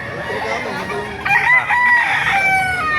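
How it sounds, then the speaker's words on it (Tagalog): Chickens and roosters at a poultry market in Baliuag, with a rooster's crow rising clearly over steady background clucking and crowd noise. "Maganda ng mga manok dito ngayon."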